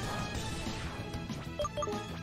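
Rock Smash attack sound effect from a Pokemon HeartGold/SoulSilver Sevii Islands fan game, a loud crunching smash with layered impacts and a few short bright chiming tones near the end, no talking.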